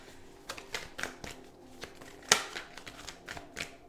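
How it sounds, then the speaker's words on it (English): Quick papery riffling and light slaps of tarot cards being shuffled at close range, in short irregular bursts with one sharper snap midway. "we'll shuffle them out"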